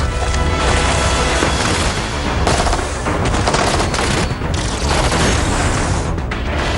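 Heavy gunfire and explosions in Halo 5 multiplayer, a loud continuous barrage of automatic weapons fire and booms with no talking.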